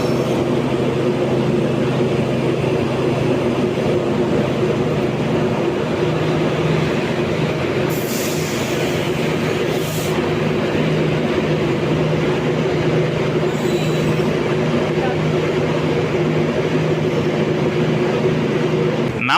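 Chandigarh–New Delhi Jan Shatabdi Express train, a steady low rumble and hum of the rolling coaches with a brief hiss partway through, continuous and fairly loud throughout.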